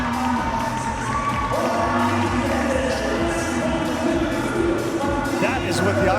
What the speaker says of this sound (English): And the crowd love that